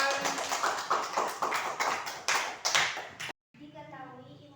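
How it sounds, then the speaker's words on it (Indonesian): A classroom of students claps for the first student group after their presentation, a burst of dense hand claps lasting about three seconds that stops abruptly, followed by quieter room tone and a voice. "kita kasih tepuk tangan."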